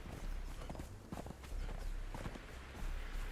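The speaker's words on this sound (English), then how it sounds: "The horse is following me around." A horse's hooves clop along behind the player in the survival game Conan Exiles, a quick, uneven string of thuds over a low rumbling background.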